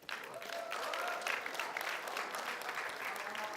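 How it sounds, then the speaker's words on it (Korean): Steady audience applause for a student at a university admissions seminar, a continuous wash of clapping filling the whole stretch without talk over it. "저 친구 멋진 박수 한번 쳐주세요."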